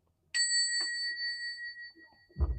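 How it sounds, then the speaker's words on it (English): A single bell rung to cleanse a space gives one clear, bright ding that rings on with a long sustained tone, followed by a brief soft knock and a low thump near the end. "We're going to ring the bell and cleanse out the space one more time."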